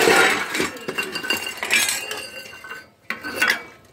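Dirty utensils and pots are scrubbed and handled at close range after a festival meal, giving repeated metallic clinks, scraping and clattering in an uneven rhythm.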